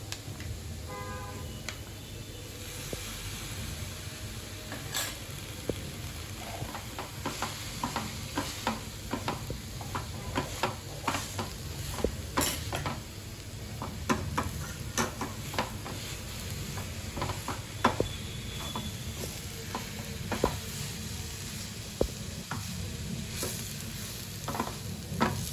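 Momo filling with boiled potato and black sauce is stirred in a sizzling pan, a long run of close scraping and clacking spoon strokes against metal over a steady frying hiss, no one speaking.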